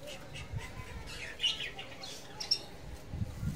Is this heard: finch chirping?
yes